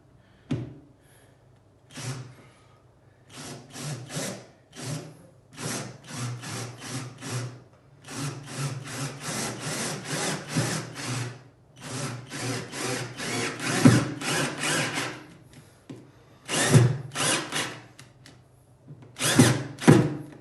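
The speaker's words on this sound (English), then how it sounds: "So it's all drilled in now." A power drill bores into a wall to mount a Viper laser oche. Short, loud whirring bursts repeat in an irregular rhythm, separated by quiet pauses.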